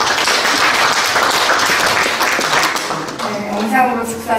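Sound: audience applause at launch ceremony

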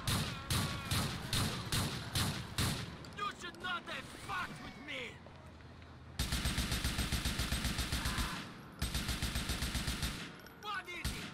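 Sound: gunshots in the video game GTA IV

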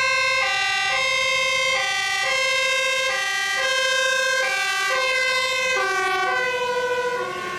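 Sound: toy fire truck siren

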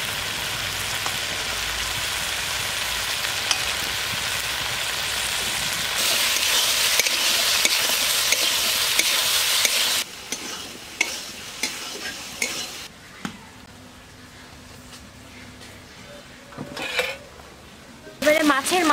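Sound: cut potatoes frying in a pan

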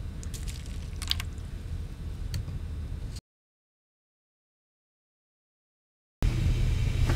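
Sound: Alka-Seltzer fizzing in cabbage juice

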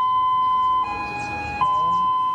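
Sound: warning siren

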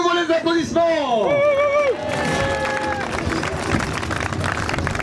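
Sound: applause at a cycling race finish

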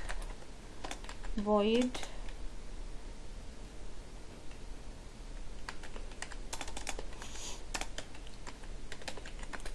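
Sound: typing code on a computer keyboard

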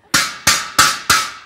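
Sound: hammer striking to test breaking

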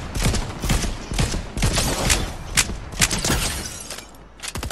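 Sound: gunfire in the video game Fortnite

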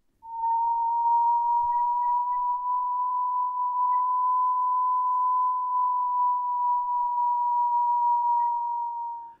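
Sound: Blighter ground surveillance radar Doppler audio signature of moving target

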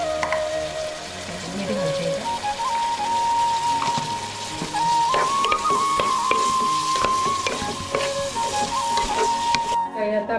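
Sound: tomatoes with salt cooking in oil

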